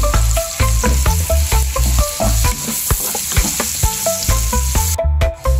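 Chopsuey with fishballs and pepper is stirred in a sizzling pan, a utensil clacking against the metal in a quick, steady rhythm over constant loud frying.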